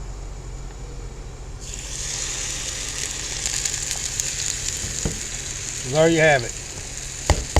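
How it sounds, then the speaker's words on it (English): Fried cornbread with soup beans sizzling on a new cast iron griddle, a steady hiss that starts partway through. Someone speaks briefly near the end, and a short mechanical whir and a few clicks cut in. "Fried cornbread with your soup beans already in it."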